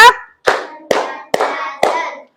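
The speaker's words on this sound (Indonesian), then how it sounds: "Tepuk 1. Tepuk 2. Tepuk 3. Tepuk 4." A group in a teacher training session claps in unison, five crisp, evenly spaced claps about half a second apart, each ringing briefly in the room before the next.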